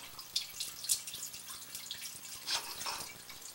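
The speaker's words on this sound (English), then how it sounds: "I just heard the line dump." Water draining through a residential sewer line during a sewer scope inspection, heard as faint scattered drips and trickling splashes echoing inside the pipe.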